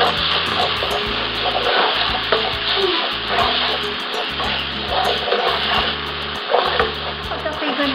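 Minced garlic sautéing in cooking oil in a pan, a steady close sizzle and crackle with occasional stirring scrapes, continuing without pause throughout.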